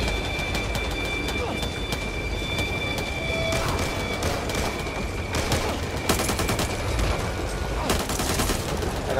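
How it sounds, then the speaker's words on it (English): Bursts of gunfire from the zombie shooter game Back 4 Blood, rapid shots and crackling volleys over a dense background of game noise, with vertical bursts clustering later in the stretch and a steady tonal hum underneath. "I don't want to overdo it with shooting."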